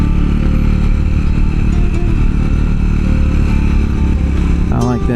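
A Triumph motorcycle engine pulls steadily in first gear up a steep canyon trail, loud and close throughout with a continuous mid-range drone and some clatter.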